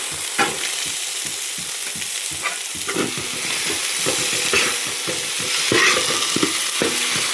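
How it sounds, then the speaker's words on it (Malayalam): Chopped tomatoes stirred into sautéed ginger in a hot pan while making butter chicken, a loud, steady sizzle broken by repeated scraping strokes of a spoon, close up and without talk. "ഇതിൻ്റെ പച്ച മണം മാറും വരെ വഴറ്റി കൊടുക്കാം"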